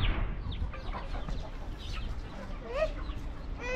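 A hen clucks in short, scattered bursts close by, with faint background noise and a brief higher squawk near the end.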